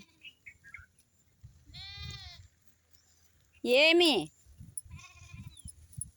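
Young goats and sheep lying in the sun give several loud, quavering bleats, one close and very loud in the middle, with fainter calls around it and someone speaking briefly nearby.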